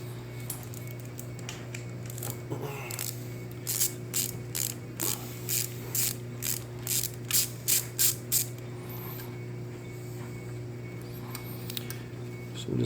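A ratchet loosens the alternator bolts on a Chevy Cruze 1.4L turbo engine, giving a run of about a dozen sharp, rhythmic clicks over a steady background hum, close and without talk.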